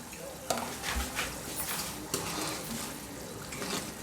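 Onion gravy for chicken karahi cooking in a pot, with a steady broadband sizzle and frying hiss throughout, a few sharp scrapes and clinks of a stirring spoon against the metal.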